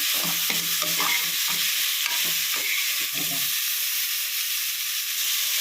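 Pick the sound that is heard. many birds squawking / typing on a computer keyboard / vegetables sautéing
vegetables sautéing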